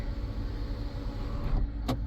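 Sunroof motor of a 2010 Hyundai Genesis running inside the car, a steady whirring hum close by that stops near the end, followed by a short click or thump.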